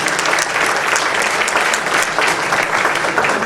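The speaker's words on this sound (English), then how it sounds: "Please give a big round of applause to Debbie Abdelkassir, a great leader of this community and of our city." A crowd at an Eid community event in New York City gives a dense, steady, loud round of applause for an honoree, with no talk over it.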